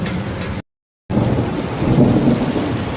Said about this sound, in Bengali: দেখতে পাচ্ছ মেঘ ডাকছে কেমন, বিভৎস মেঘ ডাকছে আজকে।